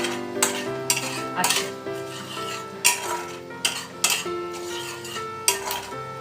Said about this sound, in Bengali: মশলাটাকে নাড়বো, যাতে খুব সুন্দরভাবে গরম মশলার যে ফ্লেভারটা আছে সেটা